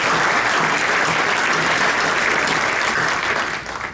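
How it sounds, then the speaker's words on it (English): Audience applause at a board meeting, a dense, steady wash of clapping hands that holds strong for about three seconds before beginning to thin and fade out. "Let's give them a round of applause."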